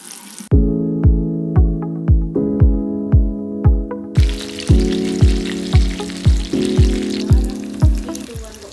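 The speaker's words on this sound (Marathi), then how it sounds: "तेलात फ्राय होतो पण" Prawn pakoda frying in hot oil, a steady sizzle running through the whole clip, close and fairly loud, with a regular pulsing beat over it.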